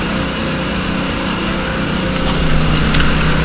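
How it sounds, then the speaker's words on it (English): Steady engine drone of a pressure washer running in the background of a workshop where a 2005 Cummins is being worked on, a constant loud hum that swells slightly near the end, with no talking. "Kind of got some pressure washing going on there."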